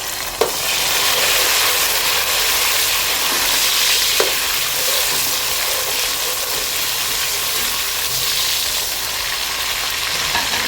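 Onions, whole unpeeled garlic, four to five chillies, finely chopped ginger and tomato frying in a pan, a loud steady sizzle with faint stirring clinks, close up with no talking.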